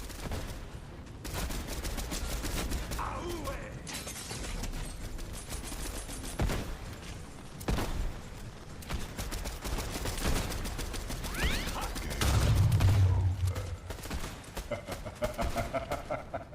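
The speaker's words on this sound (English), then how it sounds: "Get headshots with the rifle." Rapid rifle gunfire from a video game crackles almost continuously in dense bursts, with a busy mix of game sounds throughout.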